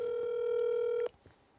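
Phone call being placed to China, a steady electronic dialing tone that holds for about a second and then cuts off, leaving a quiet background with faint noises.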